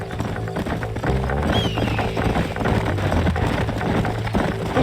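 Horses gallop in the Western video game Red Dead Redemption, a steady clip-clop of hooves that runs through the whole stretch under a low music bed and game ambience, close and fairly loud.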